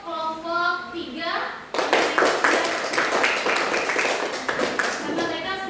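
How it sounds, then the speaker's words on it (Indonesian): A group of students claps for a presenting team in a classroom, a dense burst of hand claps that starts suddenly and holds steady for several seconds, loud and close, with voices at the start. "Berikan aplaus dulu untuk kelompok 3"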